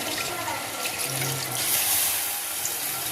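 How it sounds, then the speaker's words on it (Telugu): Half a litre of water poured into mutton paya kurma, a steady splashing rush of liquid close by running the full few seconds without talk. "ఇప్పుడు దీంట్లో ఒక 1/2 లీటర్ వాటర్ పోసుకోవాలి"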